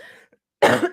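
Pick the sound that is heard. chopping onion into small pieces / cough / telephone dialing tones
cough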